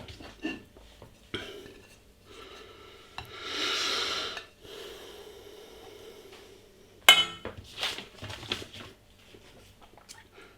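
A lid set onto a pot of Bombay potatoes in a home kitchen, giving a few clinks and a sharp metallic knock, with scattered handling sounds and a brief breathy rush in between.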